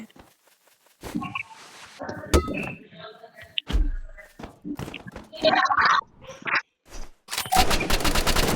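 Gunfire in the Roblox Rivals video game: sharp shots scattered among voices talking, ending in a loud rapid burst of automatic fire.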